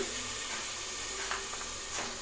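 Tomatoes sautéing with ginger garlic paste for a cauliflower biryani, giving a steady soft sizzle with occasional stirring scrapes and a sharper clink near the end, no voices.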